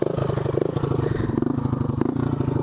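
A cold-blooded Honda ATC 185s three-wheeler with an aftermarket exhaust pipe, its engine running and revving steadily at close range, with a continuous throaty note and some mechanical clatter throughout.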